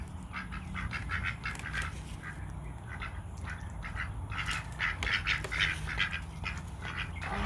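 Several ducks quack in quick, irregular bursts close by over a low background rumble, the calls growing busier toward the end.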